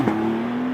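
Induction noise from a 2021 Porsche 911 (992) Targa 4S Heritage Edition engine as the throttle is lifted: a steady, loud droning hum with a brief burble at the start, heard from inside the car.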